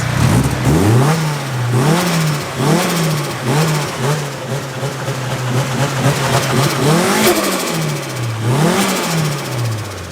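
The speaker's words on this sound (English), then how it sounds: "We're giving it a rev up." Nissan S15 Silvia engine revved after a cold start, loud and close, rising and falling in a series of quick blips over a steady idle, then one longer, higher rev near the end, with no talk.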